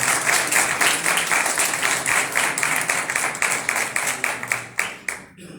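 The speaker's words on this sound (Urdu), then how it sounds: "ان کے لیے بھی زوردار تالیاں بجائیے" A congregation at a church gathering applauds in a lively burst of clapping that fades near the end and stops abruptly, with the individual claps audible as a quick rhythmic patter.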